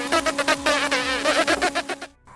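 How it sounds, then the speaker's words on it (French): A housefly buzzes steadily near a kitchen stove, a close, loud droning whine with pulsing wingbeats that cuts off abruptly near the end. "L'homme voit la mouche posée sur le rebord de la cuisinière."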